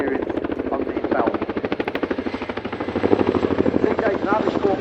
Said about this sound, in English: there's nothing louder and better than the sound of the Chinook